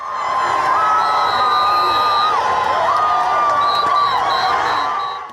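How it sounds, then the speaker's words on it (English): A large crowd of supporters cheers and whoops outdoors at a political rally in Kyadondo, Uganda, a steady roar of voices with scattered shouts and a high whistle cutting through at times. "he was welcomed by a huge crowd immediately as he exited his compound"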